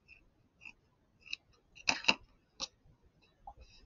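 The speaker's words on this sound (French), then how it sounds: "je vais aller couper mon thermocollant un petit peu plus loin" Scissors snip through fusible interfacing during bag sewing, a few quiet, sharp crisp cuts in an otherwise hushed room, with a cluster of two close snips in the middle.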